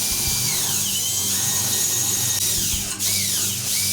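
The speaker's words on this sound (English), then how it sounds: "using an 1/8 inch bit and a portable drill, we're just going to drill those out first" A portable power drill with an 1/8 inch bit whines continuously up close, its pitch sagging and recovering as the bit bites into metal rivets on a Whirlpool refrigerator grille.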